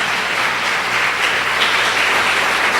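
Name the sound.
church congregation applause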